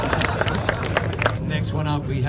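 A crowd at a car meet claps and cheers in a short, dense burst of applause under chatter.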